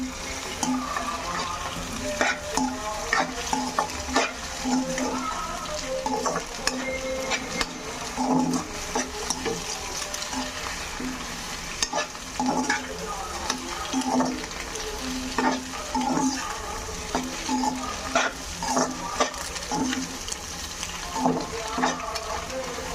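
Eggs fry in a pan for a spicy egg dish while a spatula stirs them, giving a steady sizzle broken by repeated scraping and tapping strokes against the pan, close and fairly quiet, with no talking.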